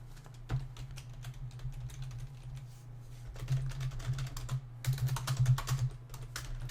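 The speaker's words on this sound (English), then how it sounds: "my keyboard's loud." Clattery clicks from a loud computer keyboard come in quick bursts of typing with short pauses, close and fairly quiet overall, growing denser toward the end.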